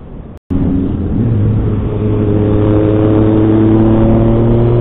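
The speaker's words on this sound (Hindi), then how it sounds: "बाइकर्स का ग्रुप जा रहा है ट्रायंथ" A group of motorcycles riding past on a highway near Mangaon on the Mumbai to Harihareshwar route, a Triumph among them, heard as a loud steady engine drone with rising tones that holds close and continuous throughout.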